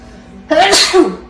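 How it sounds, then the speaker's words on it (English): A single loud sneeze erupts close up, a sharp breathy burst followed by a short voiced trailing sound. "I will sneeze."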